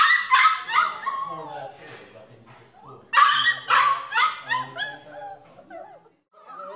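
Litter of nine guide dog puppies playing, with bursts of high yips, barks and whimpers in two clusters, close and lively, while an adult voice talks over them.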